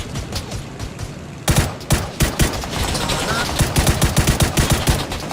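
Rapid bursts of gunfire in PUBG, sharp and close, starting after a quieter opening and then crackling in quick repeated shots and volleys over game ambience.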